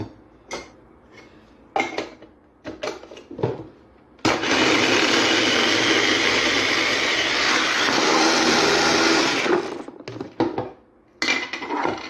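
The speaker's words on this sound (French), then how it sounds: "vous allez venir le mettre dans un hachoir et hacher" A food chopper whirs loudly and steadily for several seconds while cubed pineapple is chopped, preceded and followed by brief clinks and clatter of the bowl and lid.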